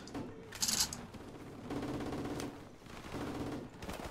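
Gunfire in Call of Duty: Modern Warfare Remastered, with short rattling bursts of shots at modest loudness over a steady background of game ambience.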